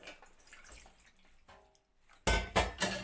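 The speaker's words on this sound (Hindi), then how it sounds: "ये पानी डाल दिया इसमें।" Water poured into a bowl of tamarind in a home kitchen, a sudden loud splashing gush that starts near the end after a quiet stretch with faint clinks and drips.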